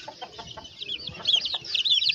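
Two-week-old male gamefowl chicks cheeping, a rapid run of close, high, overlapping peeps that keeps on through the clip, with a faint clucking underneath.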